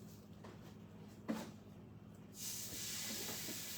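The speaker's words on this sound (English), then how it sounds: "You hear the sizzle?" Sun-dried tomatoes sizzle in oil in a pan, a soft steady frying hiss that swells louder and brighter partway through and holds, with a brief knock near the start.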